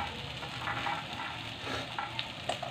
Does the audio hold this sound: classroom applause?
no